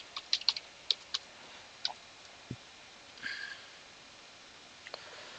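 Scattered keystrokes on a computer keyboard as a password is typed, a few quick taps then sparse single clicks, quiet and close, with a faint sniff and no talk.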